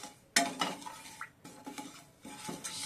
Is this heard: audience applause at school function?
no